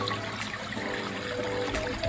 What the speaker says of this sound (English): Water's flowing, whole thing.